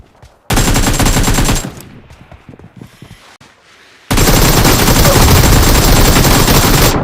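Rapid machine-gun bursts from PUBG Mobile gameplay, loud and dense, in two long sustained volleys separated by a quieter stretch of scattered distant shots.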